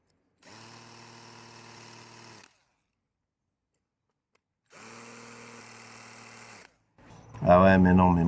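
An electric drill runs with a 4 mm metal bit in two steady bursts of about two seconds each, separated by silence, followed by a louder, rougher burst at the end.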